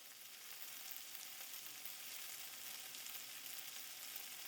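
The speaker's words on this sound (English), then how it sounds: "Saute these a little bit." Food sautéing in a pan while gnocchi is being made: a steady, dense sizzle and crackle of frying, even and unbroken, fairly quiet and close, with no voices.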